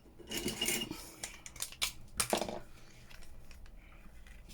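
Scissors snip through fabric close up, a handful of quick crisp cuts and rustles in irregular bursts, fading to quiet handling noise toward the end.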